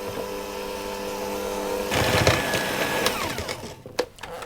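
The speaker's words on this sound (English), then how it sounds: "I'm going to cream that with my hand mixer until it's nice and fluffy" An electric hand mixer creams butter and sugar for a spiced Christmas fruit bundt cake, running as a steady close whir that grows louder and rougher partway through, then falters near the end.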